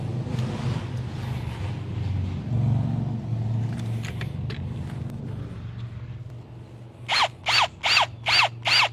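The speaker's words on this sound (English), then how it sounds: "I think that motorcycle wants you to make sure you hear him." A very loud motorcycle roars past on the road, rising over a low rumbling background, then several sharp bursts of engine revving toward the end.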